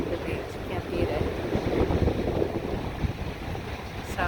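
Wind gusting across the open beach at North Myrtle Beach, a steady broadband rush with faint surf beneath, close and moderately loud, without talk.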